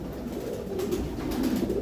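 A pet pigeon on a rooftop coos softly in low, rolling phrases, close by and alone against faint background noise.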